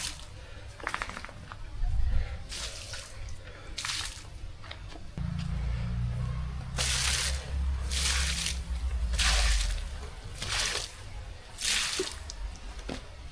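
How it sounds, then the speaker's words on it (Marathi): Plants are watered by hand, with repeated bursts of splashing and pouring water hitting leaves and soil, broken by short pauses between pours. "तोपर्यंत जरा झाडांना आपण पाणी घालून घेऊया"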